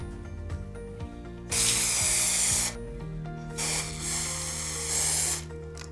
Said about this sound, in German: Ich arbeite hier in mehreren dünnen Schichten und fange immer außerhalb des Sprühobjekts an, damit sich keine Läufer bilden.